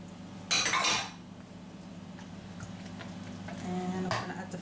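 Eggs being beaten into Oreo cheesecake batter in a bowl: a sharp clatter of a utensil against the bowl near the start, then soft, steady stirring and scraping with a few more clinks toward the end.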